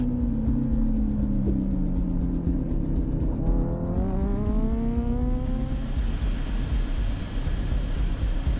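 Racing motorcycles at the North West 200 road race roar loudly near the circuit, engines climbing in pitch as they power through toward Station Corner, one bike's note rising and sweeping past while another follows close behind.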